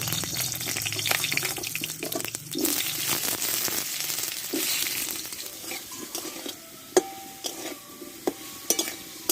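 Potatoes fry in mustard oil in a wok, giving a close, hissing sizzle with scraping stirs. The sizzle then thins into scattered sharp clicks and pops.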